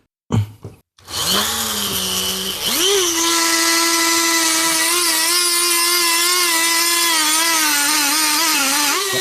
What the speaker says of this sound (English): I'm going to try this cutoff wheel with my Dremel